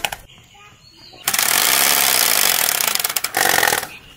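A Royal Enfield-style motorcycle engine roars loudly and steadily for about three seconds in a loud, close burst, with a short stutter near the end, after a quieter stretch with faint voices.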